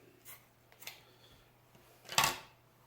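Snips of scissors cutting off a piece of improvised tourniquet material after a double wrap: two faint short clips early on, then one louder, crisp cut near the end, with quiet room tone between.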